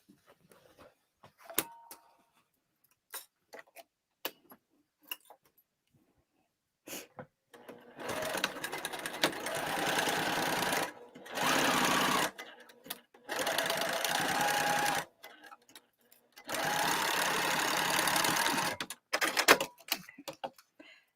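A sewing machine basting a lining in place at its longest stitch length, running in three long, steady bursts separated by short pauses, with light handling taps before the first run.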